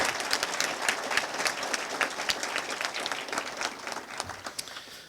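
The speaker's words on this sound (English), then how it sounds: "please a round of applause for Chicopee's finest and bravest" Applause for a city honor guard at a coronation ball, many hands clapping steadily in a hall for several seconds with no voices over it.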